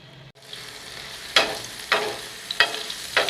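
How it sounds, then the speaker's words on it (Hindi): Garlic ginger paste frying in ghee on a tawa, a steady sizzle broken by four sharp bursts as it is stirred, close and loud, with no voices. "लहसुन अदरक के पेस्ट को अच्छे से भूनेंगे।"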